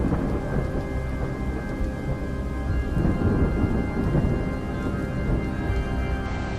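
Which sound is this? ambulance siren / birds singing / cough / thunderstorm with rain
thunderstorm with rain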